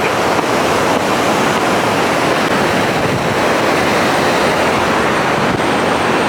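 A loud, continuous roar of water falling heavily from Neyyar Dam, Thiruvananthapuram, steady and unbroken throughout, with some wind buffeting the microphone.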